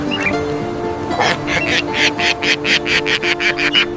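Cartoon duck in a children's farm animation giving a rapid, evenly spaced run of about a dozen short quacks over background music.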